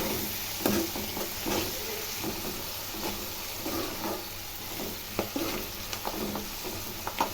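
Curry leaves and coriander sizzle steadily in hot oil for a potato and tomato curry, with soft stirring scrapes over a continuous close frying hiss and no talking.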